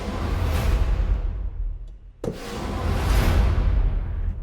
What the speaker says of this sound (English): I'm using the drum kit and the taiko swell.